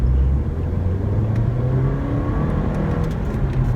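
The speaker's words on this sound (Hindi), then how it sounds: "इसको आप अगर थोड़ा सा स्ट्रेच करेंगे तो इसमें इंडक्शन की आवाज़ गाड़ी के अंदर आपको फील होती है" A Mercedes-Benz CLA 180 accelerates with a steady engine drone, its induction note climbing gradually in pitch as heard from inside the cabin, with no other sounds over it.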